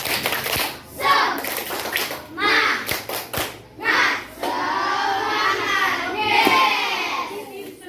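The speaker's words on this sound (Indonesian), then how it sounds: "kita tepuk semangat dulu ya. Tepuk semangat." Fifth-grade schoolchildren in a classroom do a rhythmic spirit clap, sharp sets of claps followed by loud, excited group shouting and chanting.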